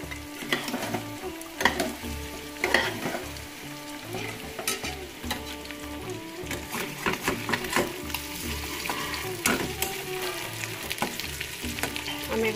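Chillies and chopped vegetables sizzle and fry steadily in a pan, with scraping stir strokes repeating throughout, close and moderately loud with no talking.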